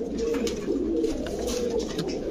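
Pakistani Kaldam pigeons coo close by in low, throaty, repeated calls that run continuously, with a few brief sharper sounds scattered over them.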